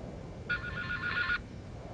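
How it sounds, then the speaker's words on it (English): An electronic phone ringtone from the video game Silent Hill: Shattered Memories, played through a Wii Remote speaker, trills in a single burst of about a second over low background hiss. "Oh, my phone's ringing. You guys can hear that, right?"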